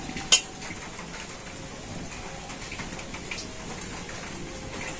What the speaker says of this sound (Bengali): আর এই থালার মধ্যে এখন আমি দিয়ে দেবো সাদা তেল।